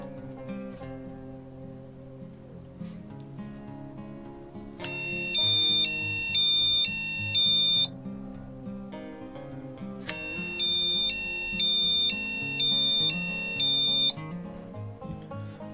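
Alarm from an Arduino flame detector sounding in two long bursts of steady, stepped electronic beeping, loud and close over a busy background hum.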